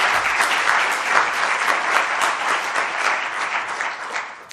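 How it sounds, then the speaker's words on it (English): An audience gives a round of applause for WASH researcher Oliver Cumming after his introductory talk, steady dense clapping that holds throughout at close range. "Big round of applause for Oliver Cumming, please."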